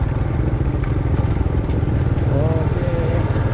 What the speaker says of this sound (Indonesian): Naik motor siang hari di Jalan Ercis